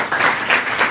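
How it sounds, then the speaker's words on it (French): Brief burst of crowd applause at a closing ceremony for a village digital-inclusion computer training in Ndiaganiao, Senegal: dense, even clapping that swells twice in under a second. "Et je vous demande de vous applaudir."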